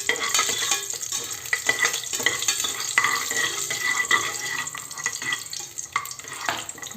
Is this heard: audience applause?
no